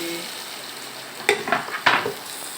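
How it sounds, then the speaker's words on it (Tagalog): Garlic sautéing in a hot pan for a creamy chicken dish, a steady sizzle broken by several short bursts of stirring and scraping near the end, with no voices. "Pagkalagay mo na, gisa mo na agad yung bawang."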